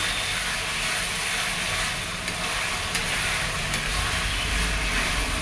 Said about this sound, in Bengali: এদিকে মাংসের মশলা কষানো হচ্ছে